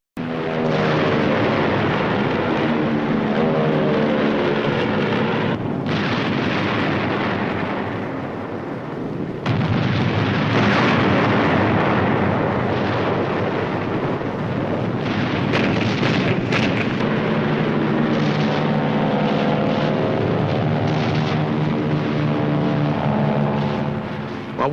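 Naval gunfire pounding the shore during a WWII amphibious landing, heard from a tracked landing vehicle: a continuous loud roar of heavy guns and rumbling engine, with blasts surging and overlapping throughout.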